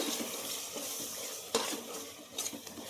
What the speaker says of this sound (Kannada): ಇವಾಗ ಇಷ್ಟು ಇದನ್ನು ಹಸಿ ವಾಸನೆ ಹೋಗೋ ತನಕ ಹುರ್ಕೋಬೇಕು.